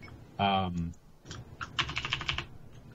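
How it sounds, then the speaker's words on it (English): Steady typing on a computer keyboard, rapid clattering bursts of keystrokes heard close, with a voice speaking briefly between bursts during a Dungeons and Dragons session. "It's really a lot of typing, though."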